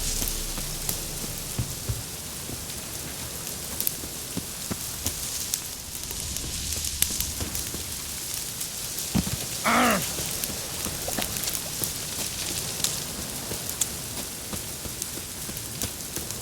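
Steady rain in the video game The Witcher 3: Wild Hunt patters on a surface throughout, a continuous soft hiss with scattered drops, one brief louder rustle partway through, no talk.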